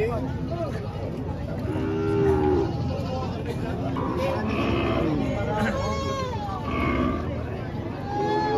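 Several goats bleating repeatedly amid a noisy livestock auction crowd in Lemery, Batangas, Philippines, with people talking nearby throughout.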